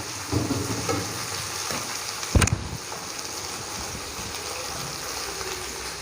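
Okra (bhindi) fries lightly in an open pan, giving a steady soft sizzle with a few scraping stirs and one sharp clatter partway through; no one talks.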